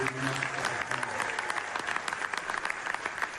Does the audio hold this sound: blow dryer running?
no